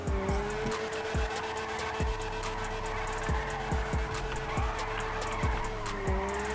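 Car drifting in GTA 5 FiveM, a steady engine drone broken by repeated squealing tire skids and sharp clacks in an uneven rhythm, loud and close throughout.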